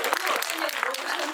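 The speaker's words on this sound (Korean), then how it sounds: "기쁘셨다면 박수 한번 부탁드리겠습니다" Audience clapping at a Korean film screening with a director's talk, a short burst of dense applause from a seated crowd with a voice speaking over it.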